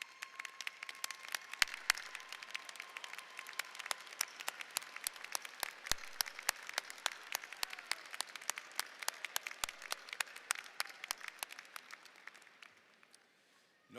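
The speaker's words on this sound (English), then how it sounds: "please stand and receive the grateful applause of our graduates and the rest of us at UTC" A graduation commencement audience at UTC applauds the family and friends of graduates, a broad, distant wash of many hands with scattered sharper claps, holding for several seconds before thinning and tapering off toward the end.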